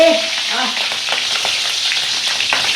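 Onion fries in hot oil in a wok, a loud, continuous close-up sizzle with light stirring crackles that holds steady throughout with no talk.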